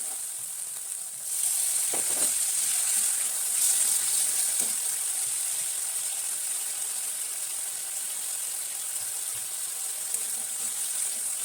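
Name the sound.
water poured into fried spice paste for fish kofta curry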